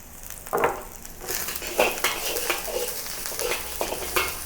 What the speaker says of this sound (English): just stir fry it for a little while, 20 seconds